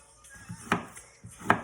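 A knife chops through fruit or vegetables on a chopping block while they are prepared for juicing, two sharp cuts about a second apart with soft rustling between them, close and fairly quiet.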